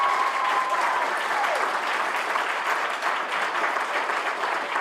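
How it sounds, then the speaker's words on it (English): Steady, dense applause from an audience at an awards celebration for news interns, sustained at a fairly even level from start to finish with no voices on top. "We can clap for that."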